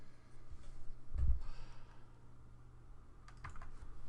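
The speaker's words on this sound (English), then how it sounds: "So we are shuffling." A deck of Magic cards being shuffled during a Pauper match, with two short bursts of quick, crisp card clicks separated by a quiet pause, close and fairly soft with no talking.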